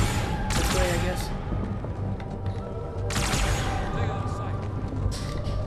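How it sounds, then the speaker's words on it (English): Gunfire in the video game Halo: The Master Chief Collection, with bursts of shots from several directions over a steady dense din of battle, loud and continuous throughout. "there's shooting going on over here"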